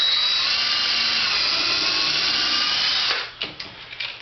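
A power drill bores into wood while a sparrow or wren bird house is being built, a loud steady whine for about three seconds that winds down into a few short bursts as the bit finishes.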